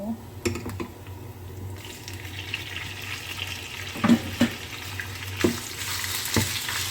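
Pork tossed into a pan with garlic already fried golden, sizzling steadily with occasional clinks of a utensil stirring, close up under quiet talk.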